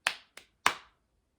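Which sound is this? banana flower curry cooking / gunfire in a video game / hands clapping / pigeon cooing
hands clapping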